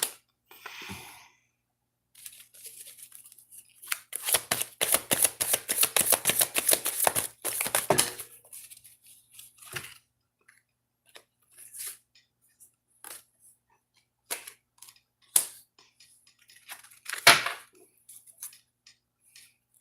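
A deck of tarot cards being shuffled by hand, with a dense burst of riffling and flicking in the middle, then scattered light card snaps and taps, close and fairly quiet, with no talk.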